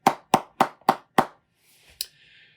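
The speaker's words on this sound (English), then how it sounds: "We thank you and honor you with our applause." Five sharp, evenly spaced hand claps ring out close and loud at a nurse anesthesia commencement, followed by a faint higher hiss and one last clap.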